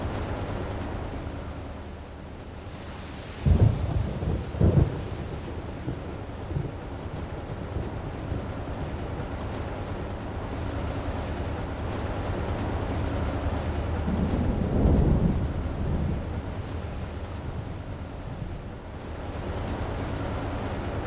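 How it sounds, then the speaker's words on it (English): Stormy sea in the Silent Hunter 3 submarine game, a continuous rushing roar of wind and breaking waves around a U-boat at sea, with a couple of louder surging crashes rising out of the steady noise. "I'll keep the boat plowing through the storm until we find a target"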